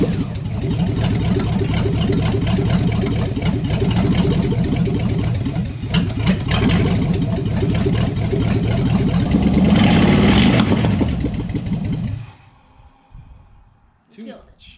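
A car engine idles steadily and loudly at close range just after being installed, a low rumbling drone holding for about twelve seconds under intermittent talk before cutting off, leaving quiet clicks and faint movement.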